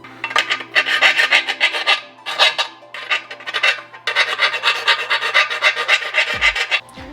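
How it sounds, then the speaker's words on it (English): A hand file rasping back and forth against the inside edge of a control arm bushing hole on a Lexus IS300 rear control arm, loud, close, rhythmic strokes in quick succession with brief pauses. "we're gonna file this inside edge to have a little bit more of a chamfer to make it easier to"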